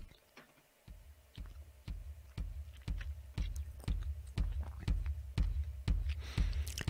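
A Sonic Pi synth fades in, repeating short clicky notes in a steady rhythm that grow from faint to full and then hold at a constant level.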